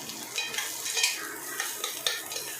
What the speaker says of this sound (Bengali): একদম অল্প তেল দিয়েছি, তার মধ্যে একটু পেঁয়াজ লঙ্কা দিয়ে দিলাম।